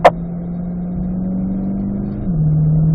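Corvette on a racetrack during an owner school session, its engine a steady close droning note that holds, rises slightly, then drops as it upshifts into fourth gear, with a brief click at the start.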